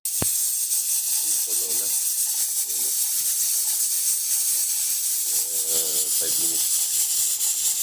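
Goat head and feet sauté in a hot pot, giving a loud, steady sizzling hiss throughout while a person speaks briefly over it.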